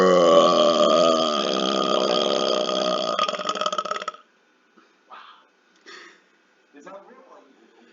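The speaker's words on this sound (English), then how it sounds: "I've been swallowing air so I can just burp at people." A long, loud, deliberate burp forced up from swallowed air rumbles on for about four seconds, followed by brief soft voice sounds.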